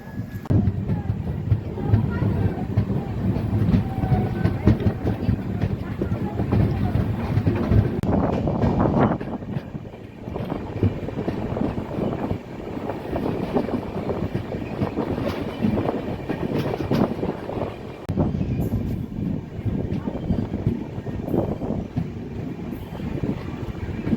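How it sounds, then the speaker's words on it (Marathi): The KSR Bengaluru Nanded Express, train 16593, pulls into Latur Road station with a steady close rumble and rattling clatter of wagons that runs throughout, dipping briefly midway, with some wind noise. "चार वाजून त्रेचाळीस मिनिटांनी लातूर रोड स्टेशनवरती आपली ट्रेन आलेली आहे"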